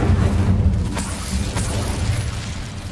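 Bursts and booms from an Incendio fire spell in Hogwarts Legacy, heavy low rumbling whooshes with sharp flares, loud and close.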